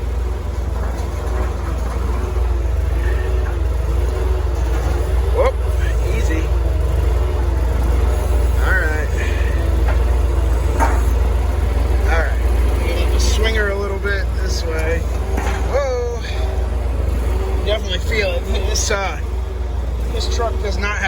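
A truck without outriggers runs its engine while winching a fallen crane back upright, a constant heavy low rumble underneath, with intermittent voices and clanking over it.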